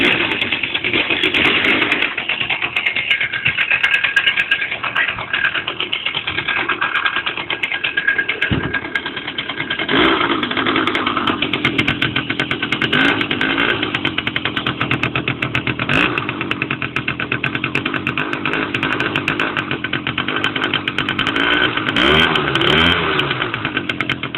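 Moped engine running outdoors in winter in the Carpathians, a steady, fairly loud mid-pitched drone throughout with uneven revving surges, no talk over it.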